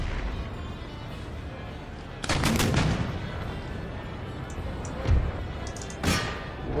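Battalion musket gunfire from a video game, a steady crackling bed broken by loud volleys near 2.3 seconds and sharp shots around 5 and 6 seconds.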